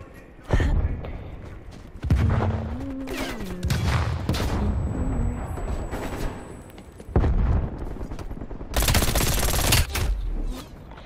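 Bursts of rapid automatic gunfire in a first-person shooter video game, loud repeated volleys separated by short pauses, with a player talking between the shots.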